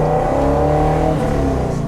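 A car engine, an old vehicle nicknamed the Sandman, revs hard and loud up close as the carburetor secondaries open, with a rising throaty exhaust note and a steady droning tone for about two seconds.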